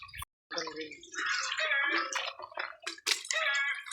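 Spring water runs and splashes as food is rinsed by hand in a village setting, a steady close trickle with irregular drips and slaps, broken by a brief pause near the start.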